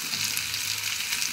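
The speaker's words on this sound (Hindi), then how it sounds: "बस 1 मिनट के लिए इसको भी फ्राई करेंगे।" Paneer frying in a kadai produces a dense, even, continuous sizzle, loud and close, with no stirring accents or voices.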